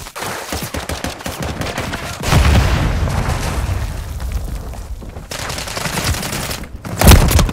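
Gunfire in Call of Duty: Modern Warfare III: dense, loud volleys of rapid shots and booming bursts, with heavier blasts near the middle and a sharp burst near the end.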